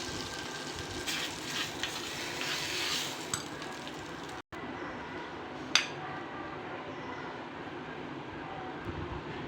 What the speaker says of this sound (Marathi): ही फोडणी आहे ना, ही छान मस्त अशी आपण चटणीवर टाकून घेऊ